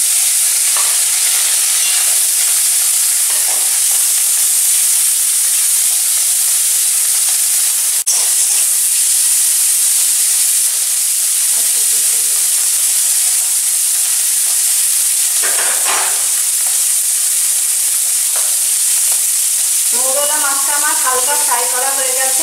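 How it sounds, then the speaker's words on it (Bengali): Mourola fish dropped into hot mustard oil in a karahi sizzle with a loud, steady hiss, a few scattered splutters and clatters, and a short burst of clinking near the end. "কড়াইয়ে আমি 4 টেবিল চামচ সর্ষের তেল নিয়েছি, তেলটা ভালোভাবে গরম হয়ে গেছে। এবার আমি মৌরলা মাছটা এতে দিয়ে দিচ্ছি।"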